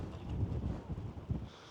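Gusty wind on a coastal cape buffeting the microphone, low rumbling bursts that rise and fall over a couple of seconds.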